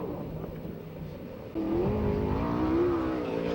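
A USAC/CRA sprint car engine screams around the Perris, California oval on a qualifying lap, a distant roar that swells louder and rises and falls in pitch through the turns.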